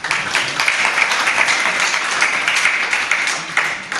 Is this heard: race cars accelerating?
no